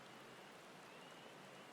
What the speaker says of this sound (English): Just listening to the sound of the soothing rain